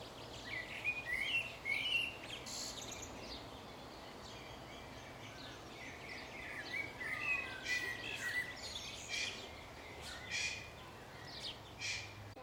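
Wild birds in New Zealand, among them a black crow, chirp and call in repeated bursts over steady outdoor background noise, at moderate distance with no speech.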